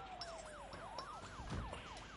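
Ambulance siren from the SimCity 5 city-building game, a rapid rising-and-falling wail repeating steadily at moderate volume with faint game ambience underneath.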